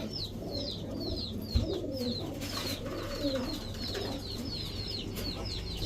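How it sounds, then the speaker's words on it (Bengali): Crested fancy pigeons coo steadily in a close flock, low throaty rolling calls layered with a repeated higher chirping from other birds, continuous throughout. "সবগুলো ঝুটিওয়ালা কবুতর"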